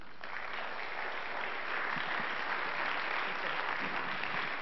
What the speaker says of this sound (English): I ask you to give them all a warm round of applause